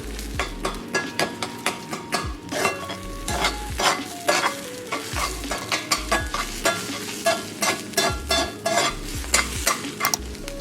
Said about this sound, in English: I just like to incorporate my egg into my cabbage stir fry